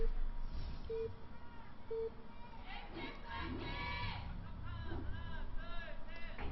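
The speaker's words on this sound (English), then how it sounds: "the Koreans always do a cheer for their team." Korean audience at a StarCraft Pro League esports match chanting a cheer for Samsung Khan, rhythmic crowd voices rising in the middle and end, heard under a caster's commentary and a repeating beeping tone.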